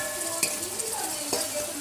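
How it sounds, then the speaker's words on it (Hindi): Stirring previously cooked semolina and maida into a pan of halwa, a steady soft scraping and faint sizzle with a couple of sharper spoon knocks on the pan, close and moderately loud, no talking. "इसके बाद हम इसमें सूजी और मैदा जो हमने पहले पकाया था वो इसमें ऐड कर देंगे"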